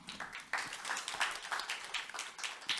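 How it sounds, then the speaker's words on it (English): A conference audience gives a brief round of applause, clapping in a few uneven bursts that swell and ebb over about three seconds, fairly quiet and somewhat distant. "You got a round of applause"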